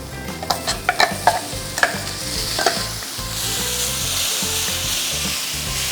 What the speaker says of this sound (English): We need to saute this masala till the raw smell of the ginger, garlic and chilies is gone